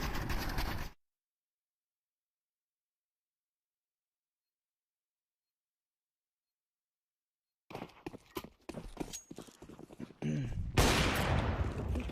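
Counter-Strike 2 gunfire during a competitive esports match, heard as bursts of sharp cracks and clattering shots at the end after a long silent gap, mixed with game noise.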